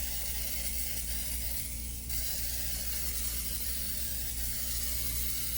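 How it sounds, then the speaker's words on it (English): Fluorescent blue spray paint hisses from a can in a steady, close, continuous spray with one short pause near the middle. "Oh yeah, it's spraying."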